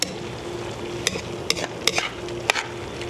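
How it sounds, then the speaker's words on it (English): Crab meat is stirred into a dish in a pan, a steady close sizzle broken by a few sharp spoon clicks against the pan. "Now I'm going to stir this around just a little bit,"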